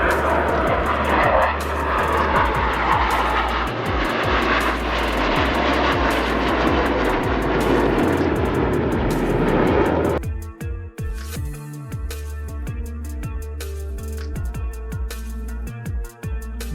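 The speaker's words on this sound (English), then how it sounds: "This Airbus A319 passing by quickly and at a low altitude." An Airbus A319 jet airliner passes quickly at low altitude. A loud, broadband engine roar dominates the first ten seconds, then abruptly gives way to a quieter whine with distant rumbling.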